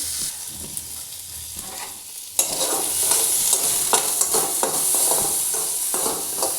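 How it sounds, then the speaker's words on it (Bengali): Sour green mango pieces fry in hot oil with panch phoron, salt and turmeric, giving a steady crackling sizzle and scraping stirring strokes that grow busier partway through. No one speaks. "তেল আমরাগুলো দিয়ে দিলাম এবার একটু নুন হলুদ দিয়ে একটু ভাজছি"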